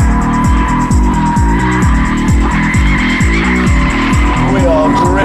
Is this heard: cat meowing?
no